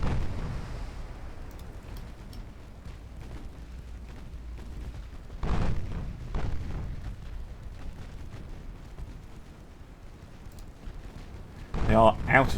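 Naval shellfire in an Italian campaign naval warfare game: low rumbling booms and shell impacts battering a ship, with heavier blasts around the middle and end over a continuous low battle roar.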